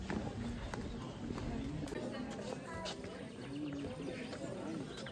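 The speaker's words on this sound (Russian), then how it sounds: "Птички поют." Birds sing near the stairway down into Prometheus Cave in Georgia, light chirps scattered over steady background noise, while people talk close by.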